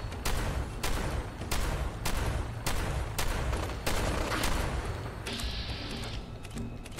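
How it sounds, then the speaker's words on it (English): An explosive combat shotgun firing in the video game Fallout 4: a rapid series of heavy booming blasts, roughly evenly spaced, loud and dense with overlapping explosions and no talk. "how about explosive combat shotgun?"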